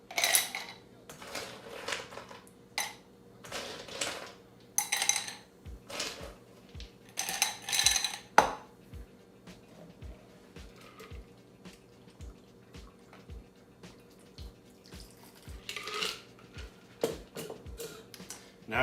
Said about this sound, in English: I'm gonna pour over fresh ice for this one